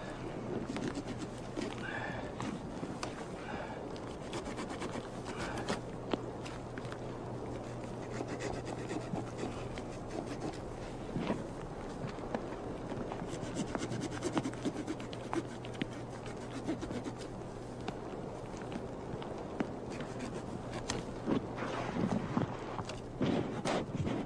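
A cut tree bough being trimmed down for camouflage outdoors, giving steady close rubbing, rasping and snapping of wood and foliage that runs throughout under a constant low hum, with birds cooing faintly in the background.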